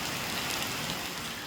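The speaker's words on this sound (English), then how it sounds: "Rain was happening daily." Rain falls steadily during a hurricane on the Camino Portuguese in Portugal, a dense, continuous hiss of drops on surfaces, close and even throughout the brief moment, with no voices.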